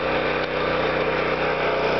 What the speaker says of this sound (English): there's Porter's first cut with his new chainsaw